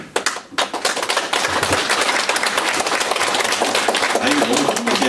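A crowd claps in a dense, steady patter of applause, fairly loud and sustained, with a brief voice near the start.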